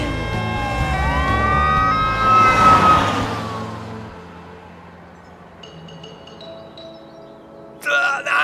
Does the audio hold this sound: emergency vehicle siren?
yes